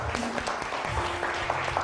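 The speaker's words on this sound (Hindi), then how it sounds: "बहुत सारी तालियां अरसलान के लिए" An audience applauds for Arsalan at a celebration on a Satrangi episode, a dense wash of clapping held steady for a couple of seconds, with faint low voices and murmur mixed beneath.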